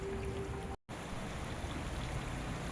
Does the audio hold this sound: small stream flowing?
yes